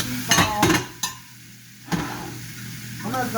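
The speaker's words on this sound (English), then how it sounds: "keep on sweating my potatoes down with the garlic and onion and everything else" Potatoes sweating in a pot with garlic and onion for mushroom soup, giving a low sizzle with a few sharp utensil clanks and scrapes against the pot, close up and moderately loud.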